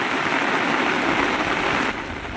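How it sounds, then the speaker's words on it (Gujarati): Heavy monsoon downpour in open farmland, a dense, steady roar of rain hammering surfaces throughout, loud and close, easing slightly near the end with no voices. "જો અટાણે ધોધમાર ચાલુ થઈ ગયો વરસાદ"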